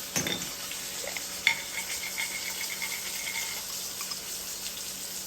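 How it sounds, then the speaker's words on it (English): Butter sizzling in a hot pan beside a steak seasoned with rosemary, thyme and garlic, a loud crackle at the start settling into a steady close fizzing with a few small pops and clinks. "You throw that butter in there."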